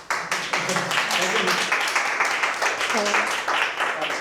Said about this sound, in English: If it's useful, clap.